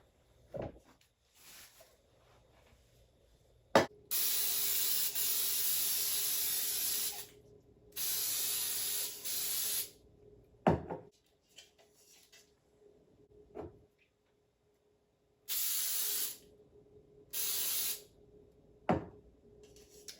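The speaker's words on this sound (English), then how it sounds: "I'm going to spray the pan and get it ready for the batter." Several bursts of hissing cooking spray coating a cake pan, each a second or two long, separated by sharp clicks and knocks of a can against the pan.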